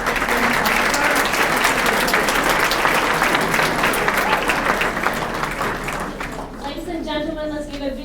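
A large audience applauds steadily at a scholar-athlete awards ceremony, dense and sustained, then fades as a voice starts speaking near the end.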